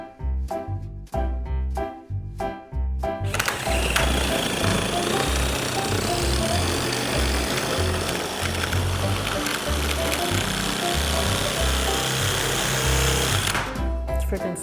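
A power tool cuts Hardie backer cement board, first in several short bursts, then in one long, loud, grinding and rattling run lasting about ten seconds before stopping.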